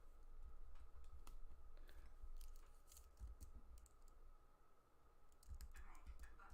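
Typing on a computer keyboard at a home desk: faint, scattered clicks and key taps come in irregular bursts over a low background hum, close to the microphone.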